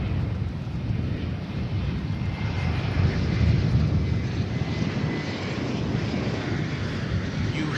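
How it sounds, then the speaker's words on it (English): An American Airlines Airbus A321 arriving from Denver lands at DFW International Airport, its engines a steady, broad rumble that holds loud and close throughout. "American Flight 1067 coming in from the mile-high city of Denver on that Airbus A321."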